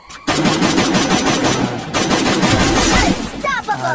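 Rapid automatic gunfire from the Free Fire battle-royale game rattles out in dense, loud bursts after a brief quiet start, continuing almost unbroken for a few seconds before trailing off.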